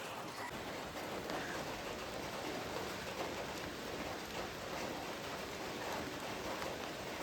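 Soft, steady rain falling continuously, a faint even hiss with light patter, distant and unbroken.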